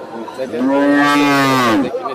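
A big desi cow at a cattle market gives one loud, close, drawn-out moo lasting over a second, with faint crowd noise around it.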